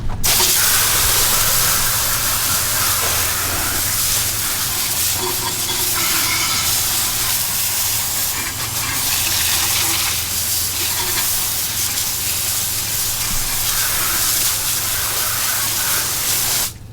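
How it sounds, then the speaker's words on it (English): Water spray rinsing cleaner off car wheels and tires, a steady loud hissing rush that continues without break, with no talking. "now we're going to rinse it all off."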